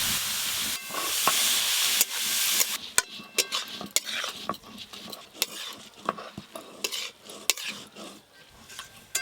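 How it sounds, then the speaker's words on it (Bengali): A utensil stirs grated carrot and beet with green chilli in a pan while making vegetable chops, giving repeated scraping clinks over a soft sizzle, irregular and close, with no voices. "গ্রেট করে রাখা গাজর আর বিট ভালো করে নেড়ে নিয়েছি"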